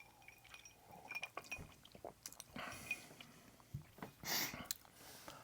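Ice cubes clink and shift in a glass of bourbon, light glassy taps and a soft liquid swirl, close and fairly quiet.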